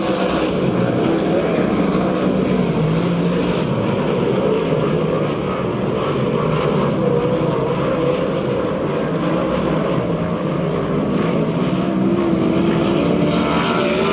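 USAC/CRA sprint cars racing in a heat at Perris, California: a continuous, loud, full engine roar from several cars, steady throughout with little variation and no voices.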